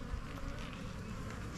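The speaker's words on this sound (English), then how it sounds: "But as you can tell, these bees are calm." Steady, dense buzzing of many calm honeybees at a new hive, close by and continuous, with no pauses.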